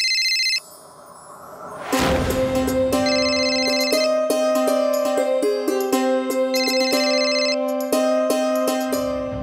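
A mobile phone ringtone plays in a tonal, repeating melodic pattern, loud and close, continuing steadily for several seconds with no talking.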